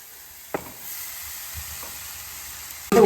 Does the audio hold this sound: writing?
no